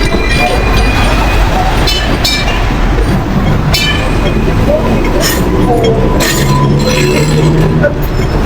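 A Hong Kong "Ding Ding" tram rumbles steadily along with metallic clinks and a few bright brass bell dings, while people talk nearby over the constant noise.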